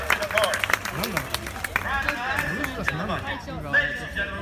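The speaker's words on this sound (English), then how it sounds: "Round of applause." A live audience at a Disney Green Army Men show claps and applauds beneath a host's amplified voice and busy crowd chatter, the clapping a steady patter throughout.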